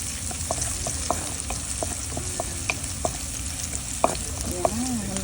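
Garlic frying in a pan for pork menudo, a steady dense sizzle with occasional sharper pops and a spoon scraping and stirring now and then, no voices.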